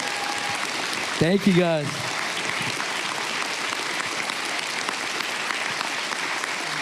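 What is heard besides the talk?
applause for someone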